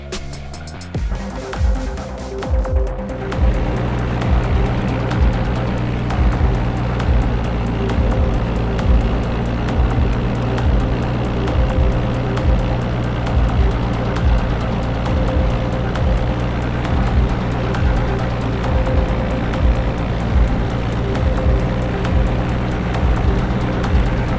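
A small airplane's piston engine runs steadily during a run-up test at Camarillo airport, a loud close droning hum with a rhythmic pulse after a brief start-up at the beginning.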